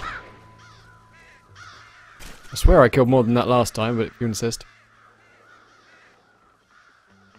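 Crows caw loudly in the video game Red Dead Redemption, giving a burst of harsh, repeated calls in a quick run of about half a dozen caws, with someone talking before it.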